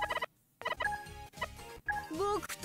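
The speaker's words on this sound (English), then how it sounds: "I wasn't expecting Cluck to sound like that" Chicken character Cluck's voice from Puyo Puyo Tetris 2, high, squawky and clucking with quick pitch swoops, set among game sound effects and chatter.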